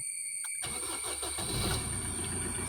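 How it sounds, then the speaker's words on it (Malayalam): A car engine cranks and catches after a brief click, then settles into a steady, fairly quiet running rumble. "വണ്ടി സ്റ്റാർട്ട് ചെയ്യുന്നു"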